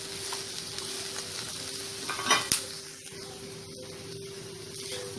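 Fresh grated coconut dry-roasting in a pan, with a steady soft sizzle and scraping from a spatula stirring it, plus a brief louder clatter partway through and no talking.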